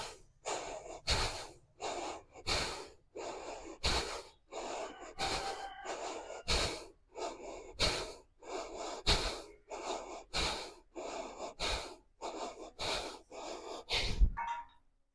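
About sixteen deep, regular breaths are held in a yoga pose, each a close, airy inhale or exhale, evenly spaced in a slow rhythm with quiet gaps between.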